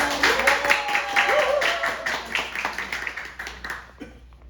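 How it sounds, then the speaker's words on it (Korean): Audience clapping welcomes a speaker onto the stage at an indoor presentation, brisk applause that fades out toward the end, with a voice talking over it. "박수로 맞이해주세요."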